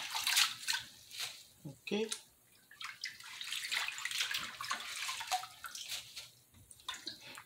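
Tap water runs and splashes in bursts while kale is washed in a sink, fairly close, with a voice speaking briefly over it.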